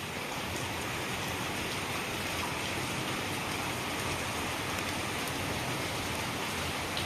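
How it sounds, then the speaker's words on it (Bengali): Heavy rain pours down at night in a steady, dense hiss that stays uniform and fairly loud throughout, with no talking. "প্রচণ্ড পরিমাণে বৃষ্টি হচ্ছে"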